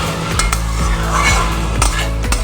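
A spoon stirs a Bengali katla fish head dish in a pan just after sugar goes in, giving a few clinks and scrapes against the metal over a low frying sizzle, close and fairly loud.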